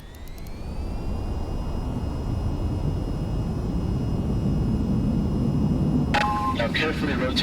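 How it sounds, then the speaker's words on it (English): In the video game VTOL VR, a jet aircraft's engine whine rises and settles into a steady, loud roar as it speeds down the runway to take off, with a voice speaking briefly near the end. "Now to take off, raise the throttle to full and steer to keep aligned with the runway."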